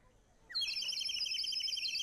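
A pitched bird call skill in the video game Legacy of Morgoth rings out suddenly after a quiet moment, a bright, clear, warbling chirp that holds steady and close for over a second.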